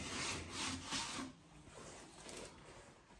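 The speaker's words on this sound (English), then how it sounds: "So now I'm going to pilot the holes so that I can get my jigsaw in." A drill bores pilot holes into wood to make room for a jigsaw blade, giving a quiet rasping grind that eases off after about a second and then continues softly underneath.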